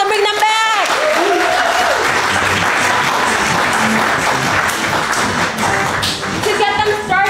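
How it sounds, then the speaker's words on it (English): A crowd at an improv comedy show claps loudly and continuously, with a few whoops and brief voices rising at the start and end over the steady applause. "let's give them a big round of applause and bring them back."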